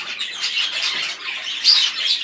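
Two yellow-faced dominant pied cage birds chatter and squawk continuously at close range, with busy, overlapping chirps and calls and no gaps.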